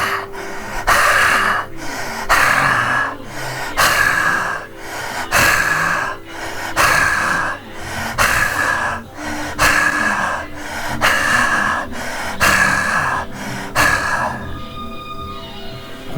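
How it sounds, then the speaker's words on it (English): Deep, forceful breaths with the tongue stuck out, done as a yoga exercise: about ten loud, rhythmic huffing exhalations in a steady pattern, close to the microphone, fading into quiet at the end. "So 10 times deep breathing like this."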